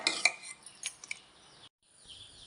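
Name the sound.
stirring rice flour and fried onions in a pot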